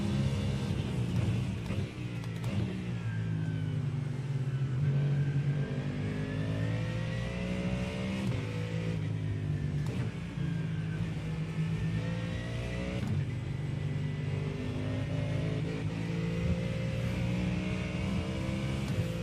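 A GT3-class racing car in the iRacing simulator revs hard and continuously, the engine note climbing and dropping through gear changes over a long, steady, loud run with no talk.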